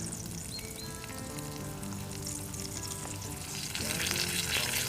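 Streaky bacon and ribeye steak frying over a fire outdoors, giving a dense, continuous crackling sizzle close up that grows slightly louder toward the end.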